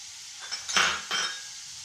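Onions and curry leaves hit a pan of hot oil for a home-style Karnataka lentil saaru, giving a short, close sizzle with two bursts of crackle and a faint clink of utensils, no voices.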